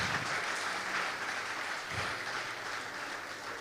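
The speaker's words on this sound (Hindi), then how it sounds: "जोरदार तालियां खुदा के लिए।" A church congregation breaks into loud, sustained applause, a dense wash of clapping from many hands that holds steady for several seconds with no voices on top.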